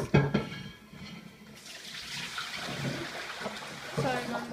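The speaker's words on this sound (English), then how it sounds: "my mom was draining some water from whatever" Water draining indoors, likely from a sink or tub, with a rushing flow that grows and continues steadily after a brief knock at the start, with faint background sounds.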